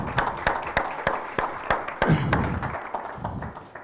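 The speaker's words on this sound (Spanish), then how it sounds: "un aplauso para él" An audience claps for a speaker at a cultural talk, scattered sharp claps in an irregular rhythm that thin out and fade over a few seconds, close and fairly loud.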